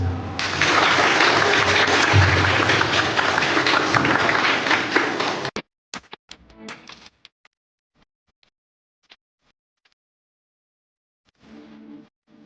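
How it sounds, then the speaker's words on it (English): Workshop audience in a hall breaks into loud, sustained applause for about five seconds, then cuts off abruptly, leaving a few scattered claps and handling noises before faint murmuring returns near the end. "A round of applause."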